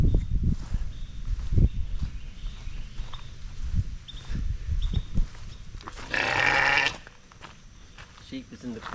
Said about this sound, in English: We found sheep. They're in the corn.